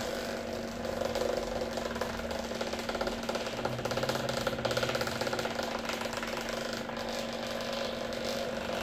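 A thermal printer running while printing a tattoo stencil, giving a steady mechanical whir and hum with a fine buzzing texture that holds at an even level throughout, close by and alone.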